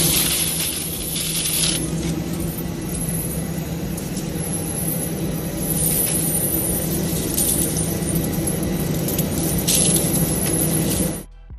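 Metal shackles and chains clink and rattle continuously on a deportation flight, a steady jangling with a low cabin rumble underneath and no voices.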